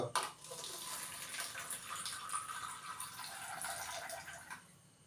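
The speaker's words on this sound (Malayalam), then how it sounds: "ആദ്യം ഒരു പ്ലെയിൻ ഗ്ലാസ് എടുക്കുക അതിലേക്ക് കുറച്ച് വെള്ളം ഒഴിക്കുക" Water pours steadily into a plain glass for several seconds, a continuous splashing pour that tapers off at the end.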